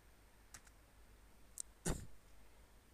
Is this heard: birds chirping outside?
no